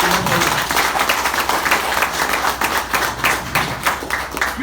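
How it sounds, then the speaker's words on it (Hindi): An audience at a multi-level marketing training session clapping together, a steady dense patter of many hands lasting several seconds with no talk over it. "मुझे तालियों से बता दीजिए,"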